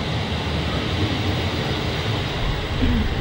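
Steady, loud rumble and hiss of a train in motion, heard from inside or close by, with a faint squeal near the end.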